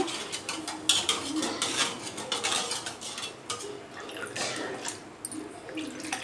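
A spoon stirs barley powder into water in a cooking pot, giving steady clinking and scraping against the metal with light watery swishes, close up and without talk.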